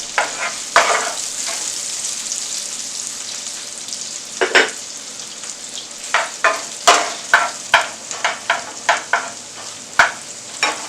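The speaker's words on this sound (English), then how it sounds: "we're going to put in our hardest dish, veggie. That's going to be the okra. And then put in our onion." Okra and onion sizzle steadily in butter in a pan, with a constant frying hiss broken by repeated sharp scrapes and clacks of stirring, close and fairly loud.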